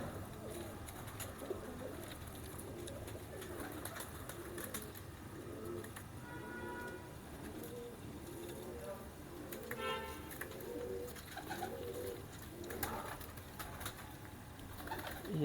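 Teddy pigeons (kabootar) coo in soft, repeated rolling phrases close by, with occasional light rustles and someone talking quietly in places.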